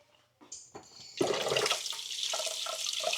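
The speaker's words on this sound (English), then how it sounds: "I'm gonna wash my hands real quick." Tap water runs steadily into a sink while hands are washed, starting with a few small knocks and clatters before a continuous rushing splash that carries on to the end.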